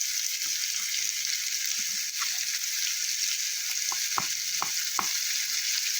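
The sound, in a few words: frying potatoes with salt in a pan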